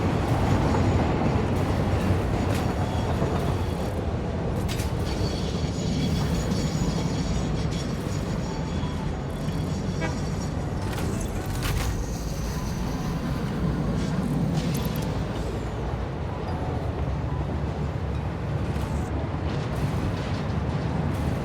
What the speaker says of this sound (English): Train sounds really loud.